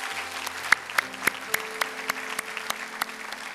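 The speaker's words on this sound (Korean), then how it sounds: "하나님께 감사의 박수 올리겠습니다" A church congregation gives scattered, spaced handclaps during Sunday worship, while sustained organ or keyboard tones hold steadily underneath.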